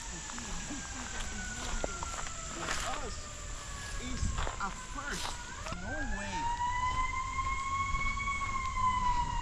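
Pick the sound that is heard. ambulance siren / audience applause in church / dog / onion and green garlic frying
ambulance siren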